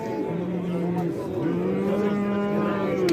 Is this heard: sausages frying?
no